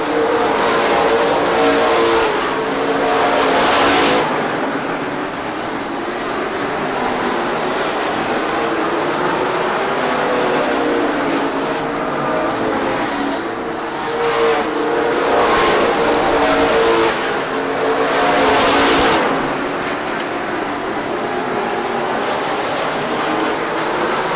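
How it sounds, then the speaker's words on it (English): Race cars circle the Rockford Speedway oval in 1994 with a loud, continuous engine roar that swells and fades repeatedly as cars pass close by, sounding like a pack at full throttle. "Bilderback again to the inside, the 0-2 car. Battling with Steve DeMar in the 1440 car."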